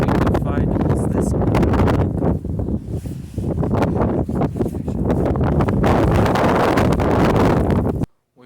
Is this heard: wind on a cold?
yes